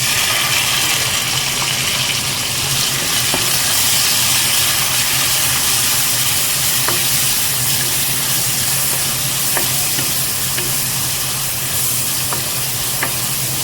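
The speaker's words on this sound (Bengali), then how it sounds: "পেঁয়াজ তেলের সাথে ভালোভাবে নাড়িয়ে চাড়িয়ে লাল লাল করে ভেজে নেব।" Chopped onions frying in oil while being stirred, a loud constant sizzle and hiss with occasional clicks of the spoon against the pan, steady for the whole stretch with no talking.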